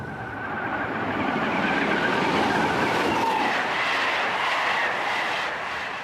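Commuter train slowing as it approaches the Paris Saint-Lazare terminus, a steady loud rumble and rail roar with faint squealing, continuous throughout with no talk.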